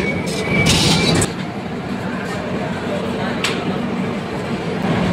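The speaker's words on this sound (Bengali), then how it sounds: "ট্রেন ছেড়ে দিয়েছে।" A passenger train on the Howrah to Mumbai route rolls out after leaving Shalimar station with a continuous rumble and a few sharper rattles and clanks, while a voice talks over it.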